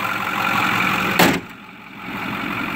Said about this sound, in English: The engine's running, no smoke at all.